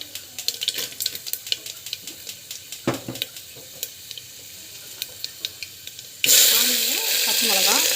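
Chana dal frying in hot oil with mustard seeds and cumin crackles in sharp, scattered pops close by, and a loud, steady hiss of fresh sizzling bursts in near the end.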